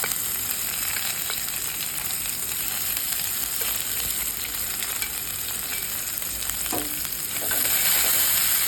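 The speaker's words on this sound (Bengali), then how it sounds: "চারটে শুকনো লঙ্কা আমি চিড়ে নিয়েছি এবার এর মধ্যে দিয়ে দিলাম এবার একটুখানি বেশ লাল লাল হালকা কালো কালো করে একটু ভেজে" Cumin and dried red chillies frying in hot oil give a continuous bright sizzle and crackle, close and steady, with a few soft stirring scrapes near the end.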